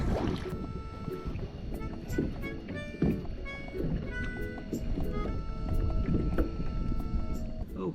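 A kayak moves on open water off Phu Quoc Island, Vietnam, with steady sloshing and knocking paddle strokes up close while tonal chirps and clicks run through the background.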